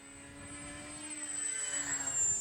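A KI-61 Hien model airplane on its maiden flight, its motor giving a faint, steady whine that grows slightly louder as it passes, heard alone outdoors.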